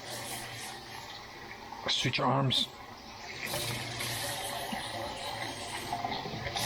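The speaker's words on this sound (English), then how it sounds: "lots of water in here. Wash the starches off of it." Water running and splashing as basmati rice is rinsed in a pot, a soft steady gush with a brief louder swirl, while someone speaks.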